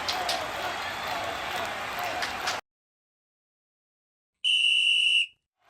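A referee's whistle in an AI-controlled football video game match between Czechia and Georgia: crowd noise runs under a brief whistle early, then silence, then one sharp sustained whistle blast near the end.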